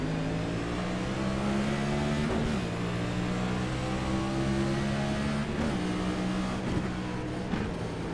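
A NASCAR race car engine at Dover drones loudly and climbs in pitch through repeated gear shifts, a continuous mechanical roar with no voices.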